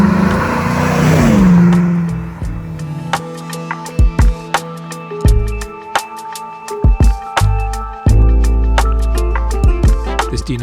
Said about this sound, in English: Wasatch is powered by our GM LS3 V8 engine with 6-speed automatic transmission